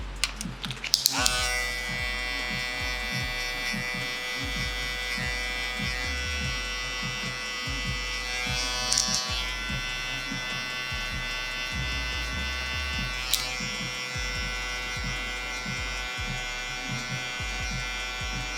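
Electric hair clippers hum steadily while cutting a taper haircut on a boy in a home garage setup, a close buzzing drone with a thin metallic whine and occasional clicks.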